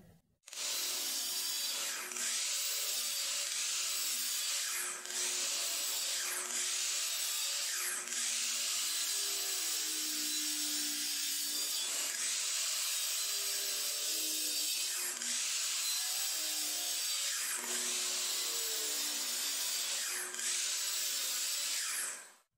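Wooden boards for a tray being cut to length with a saw, a steady continuous rasping with repeated stroke pulses over about twenty seconds, close and fairly loud, no talking.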